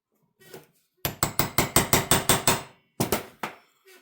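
A hammer strikes a metal punch on an engine piston in a quick run of about eight sharp, ringing taps, then two more after a pause, loud and close with no talking.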